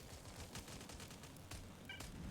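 Gunfire crackles at a bandit-held dump pit in StalCraft, a faint, steady stream of distant shots and bursts with sharper cracks standing out now and then.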